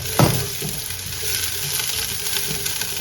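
Beans frying in oil in a home kitchen pan, a steady, close sizzle with a soft clack of stirring at the start and faint scraping movements throughout.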